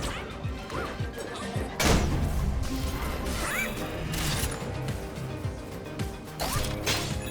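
In the video game Astro Bot, objects are punched and broken, giving repeated crashes, clunks and mechanical rattles over busy game sound effects, with a heavy smash near the middle.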